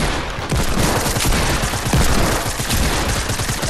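Dense, continuous gunfire from a shooter video game, rapid bursts and volleys sounding close and loud throughout with no pauses.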